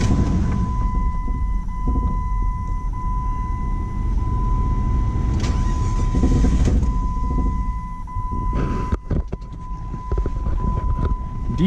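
A recently repaired Jeep engine runs after a cold start, holding a steady low rumble with a faint constant whine and a brief rattling clatter near the end.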